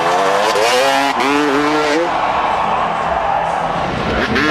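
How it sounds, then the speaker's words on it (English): Crowd cheering at a freestyle motocross event in Calgary, a loud, steady roar of many voices with a high-pitched engine whine rising and falling over it and no pauses. "The crowd here in Calgary are great. They're cheering on every single trick."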